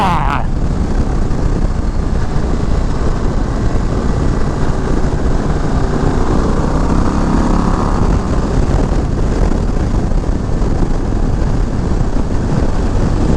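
A 2025 Harley-Davidson Low Rider ST motorcycle rides along winding roads, its engine and wind roar forming a loud, steady drone throughout.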